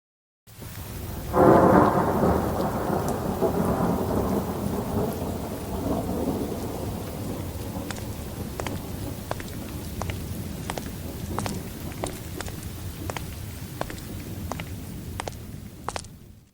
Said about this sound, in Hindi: इतनी तेज बारिश में बाहर क्या देख रहे हैं? बिजली इतने जोर से कड़क रही है